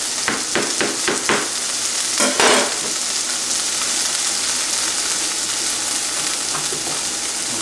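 Mushrooms cooking in a pan give a loud, steady sizzle, with a few scraping stirs near the start and no voices.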